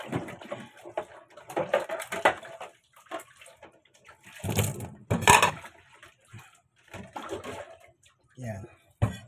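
Plates being rinsed in clean water during dishwashing, with bursts of splashing and running water between stretches of nearby talk.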